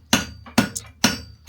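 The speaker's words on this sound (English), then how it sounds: "I'm just putting my clips on with a clipping hammer" A clipping hammer strikes clips on a horseshoe during farrier work, giving three sharp metallic blows at an even pace, each with a quick ring, close by and alone.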